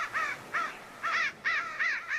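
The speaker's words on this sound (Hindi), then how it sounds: "वे भी जोर जोर से काव काव काव काव करने लगे" Several crows caw loudly and nearby in a lively burst, about six harsh calls in quick succession with short gaps, heard alone with no voices.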